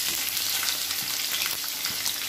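Onion sizzling in hot oil in a pan for onion palya, with green chillies and curry leaves, a steady dense crackling hiss with soft stirring knocks throughout, no talking.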